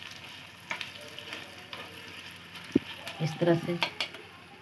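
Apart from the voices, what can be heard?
tempering spices sizzling in hot oil for sambar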